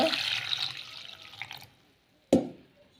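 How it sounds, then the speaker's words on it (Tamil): Half a litre of water pours and splashes into a pot with garlic for over a second, then goes quiet before a short sharp clatter near the end. "அரை லிட்டர் தண்ணி ஊற்றிக்கலாங்க"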